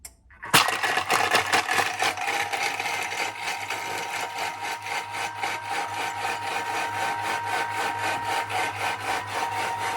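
A Thermomix starts up and blends a s'mores peanut butter smoothie at speed 6, a close, steady motorized whir with a rhythmic churning pulse that runs unbroken after a sudden start.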